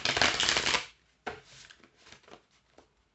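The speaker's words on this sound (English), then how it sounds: "let me just shuffle up one more time here." A deck of tarot cards is shuffled close by: one long riffling burst, then a pause and several shorter, softer shuffles and taps, quiet and alone.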